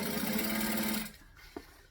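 A sewing machine runs steadily for about a second, top stitching fabric for a garment, then stops, leaving quiet room noise and a small click.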